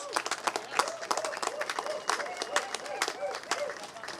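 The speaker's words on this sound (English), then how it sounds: "Can I have a big round of applause?" Audience applause at a Special Olympics flag raising ceremony with law enforcement agencies: scattered, uneven clapping from a modest crowd, moderately faint, mixed with voices and chatter throughout.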